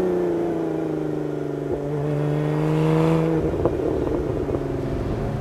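A 2023 Lotus Emira sports car engine drones steadily, then lifts off onto overrun with a burble and several sharp exhaust crackles and pops.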